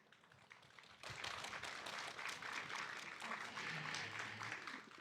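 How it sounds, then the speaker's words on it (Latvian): Audience applause bursts in at a live panel discussion recording at the Lampa festival, a dense, steady wash of many hands clapping that holds loud and close until the end, with faint voices underneath. "Paldies par aplausiem"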